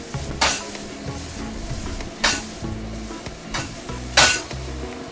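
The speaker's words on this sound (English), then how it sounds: "I'm just giving that a real quick toss to combine, mostly just making sure that that garlic comes off of the bottom of the wok." Broccoli and garlic are tossed and stirred in a hot wok, a steady close sizzle punctuated by several sharp metal scrapes and clatters of the spatula against the pan, with no talk.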